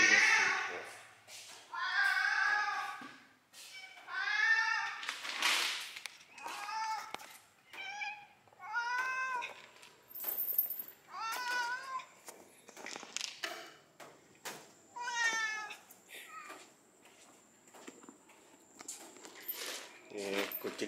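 A stray cat in a housing complex meows repeatedly, close and fairly loud, its calls coming in irregular bursts over about twenty seconds, with a person talking in between.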